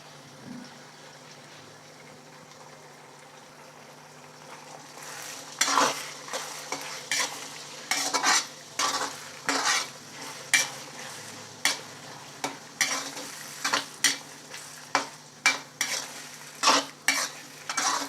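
Eggs sizzle in a pan while being cooked for egg rice, and a utensil repeatedly scrapes and stirs in rhythmic strokes that grow steadily louder and more frequent over a low frying hiss.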